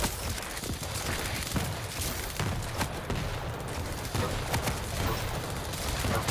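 Rocket launcher fire and explosions in the arena shooter Quake, a dense, continuous barrage of blasts and sharp impacts that stays loud and close throughout, with no gaps between hits.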